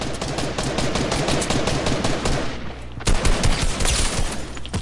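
Rapid, sustained automatic gunfire from the video game Fortnite rattles on loudly and nearly continuously, with a brief dip before the bursts resume at full intensity, no voices over it.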